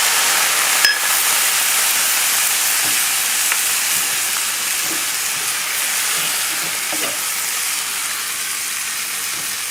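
Sea bass simmering in a pan with onions, fresh tomato, garlic, white wine and lemon juice, giving a loud, steady hiss and sizzle throughout with a few faint bubbling pops and no voices.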